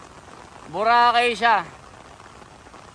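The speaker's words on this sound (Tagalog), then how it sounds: "Ganda pala dito pag umuulan mga kababayan." Rain falls steadily on the Dolomite Sand beach during a storm, a soft, even patter heard throughout, while someone speaks briefly over it near the middle.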